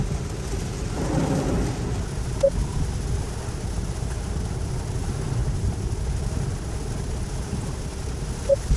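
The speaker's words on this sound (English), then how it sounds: "It's pretty heavy rain though, considering." Steady, dense heavy rain noise from inside a moving Tesla, a constant broadband wash with a couple of faint clicks.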